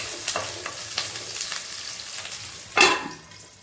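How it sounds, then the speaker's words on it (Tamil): Chopped onions stirred in a frying pan for a Tamil kuzhambu, with soft scraping strokes over a steady sizzle and one louder scrape near the end. "அதையும் போட்டு நல்லா கிண்டுவோம்"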